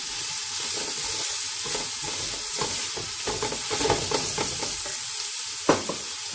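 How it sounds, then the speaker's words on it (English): Onions and green chilies fry in a pan for vegetable biryani, a steady hissing sizzle with intermittent spoon scrapes and one sharp knock near the end. "Make sure you fry these onions to the golden brown color."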